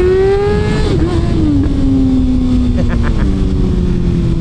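A Kawasaki ZX-636 sport motorcycle engine revs up in first gear, its pitch climbing then easing as it pulls away, loud and close with steady wind noise.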